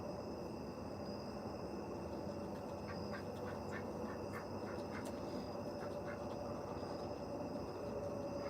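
Backyard ducks at feeding time, kept among chickens, turkeys and geese, give a run of soft, distant quacks over a constant hiss of background noise.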